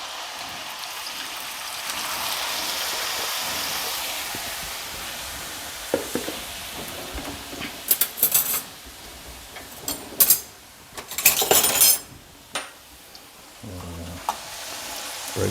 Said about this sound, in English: So now we have our hot oil. What you wanna do is just put your potatoes in.